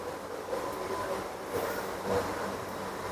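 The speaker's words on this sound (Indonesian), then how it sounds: "Ini kereta." A train runs at Takayama station in Japan with a steady rumble and faint rail clatter. It sounds moderately loud and continuous, with no talking.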